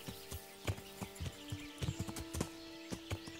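Rhythmic clip-clop of horse hooves at a trotting pace, fairly quiet, over a steady electronic hum, with a faint whinny, in the video game Kingdom Come: Deliverance.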